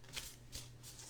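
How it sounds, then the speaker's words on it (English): A deck of oracle cards is shuffled by hand in a quiet room, giving three soft riffling bursts in quick succession, faint and close. "and shuffle the deck"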